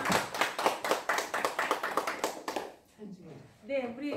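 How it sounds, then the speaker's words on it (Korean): A small audience claps together at the close of a political party candidates' debate, sharp rhythmic hand claps that stop abruptly after about two and a half seconds, followed by a voice speaking. "박수 치겠습니다"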